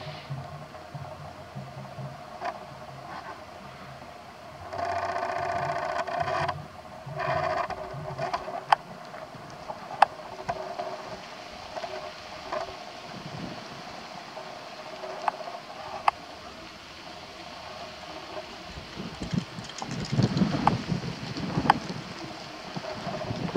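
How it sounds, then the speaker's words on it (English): Gusty wind buffets the microphone in uneven rushes and low rumbles, rising and falling throughout with faint knocks and creaks in the background. "Starts a little windy."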